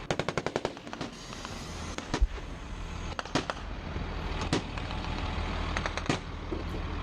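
Gunfire during special forces combat in Afghanistan: a rapid burst of automatic fire opens, followed by scattered single shots and short bursts over a constant rumbling background, moderately distant.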